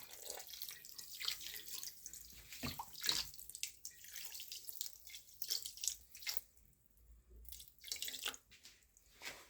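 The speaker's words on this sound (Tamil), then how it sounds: "இப்போ சர்க்கரை முழுகிற அளவுக்கு தண்ணி ஊற்றிக்குவோம்." Water pours and splashes onto sugar in a pan in several short bursts, with drips and trickles between pours, close and moderately loud.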